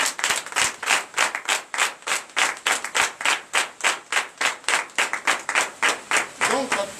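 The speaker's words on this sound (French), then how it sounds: "je vous demande d'applaudir très fort" Worshippers at a morning prayer meeting in Benin clap loudly in a fast, regular rhythm, with a voice briefly heard near the end.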